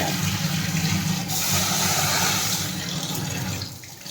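Running water pours steadily over mung dal lentils being rinsed, a constant close splashing rush that fills the whole stretch before easing slightly at the end.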